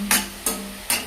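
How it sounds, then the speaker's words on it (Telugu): Onions fry in a pan for egg curry. Three evenly spaced bursts of stirring or scraping rise over a steady low sizzle and hum, close and fairly loud. "ఆనియన్స్ ఫ్రై చేస్తున్నావా?"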